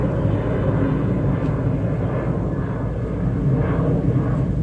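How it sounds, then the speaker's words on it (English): A steady, low engine drone hangs over the whole stretch, like an airplane passing high overhead, constant and moderately loud with no talk. "Always got to be an airplane going overhead while I film."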